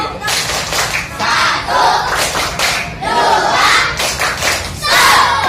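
A group of schoolchildren clap the Tepuk KB clapping game in a classroom, loud rhythmic hand claps in repeated bursts blended with crowd noise and children's voices.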